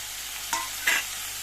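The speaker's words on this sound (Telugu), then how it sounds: "రెండు వేగుతున్నాయి ఇప్పుడు టమాటా కూడా వేసేయాలండి" Ingredients frying in a pan as tomato is added, a constant close sizzle broken by two quick scraping stirs.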